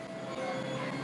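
A video game train rumbles steadily along with a constant mechanical drone and faint tonal hum, continuous and fairly close for about a second.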